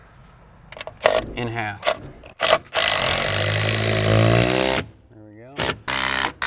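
Screws being driven through a ledger board into wall studs while installing a ledger for roof trusses, a long steady power-driver whir of several seconds between short bursts, with someone talking before and after.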